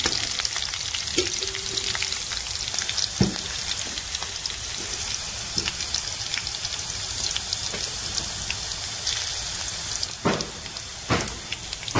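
Green chilies sauté in hot oil for sabudana khichdi, a dense, even sizzle like rain on a surface with a few spatula clicks against the pan, close up and without talk.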